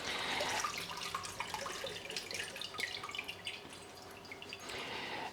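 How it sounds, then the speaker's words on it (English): Brine draining from pitted green and black olives, a continuous faint trickle with scattered drips, steady throughout and fading slightly toward the end. "I'll give this a couple of minutes to completely drain the brine"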